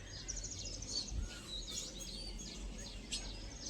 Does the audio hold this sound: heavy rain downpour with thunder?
no